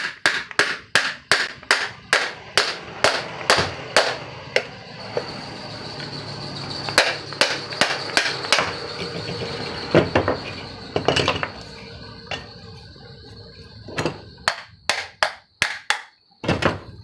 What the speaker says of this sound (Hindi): इस प्रकार से बॉडी स्क्रू को खोलने के बाद हथौड़ी की मदद से इस शाफ्ट में जोर से मारना है।